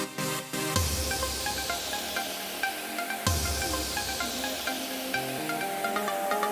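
Big room house break melody with the low-pass filter gradually opening, bright synth chords and a plucked lead swelling up from a muffled start, with two deep hits punctuating the building phrase.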